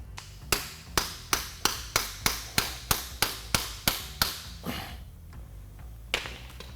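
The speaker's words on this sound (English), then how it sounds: "Now we can hammer out the seal to gain access to the rear pinion bearing." About a dozen sharp, evenly spaced hammer blows driving out the rear axle pinion seal on a Jeep JK, loud and close, with a few fainter taps afterward.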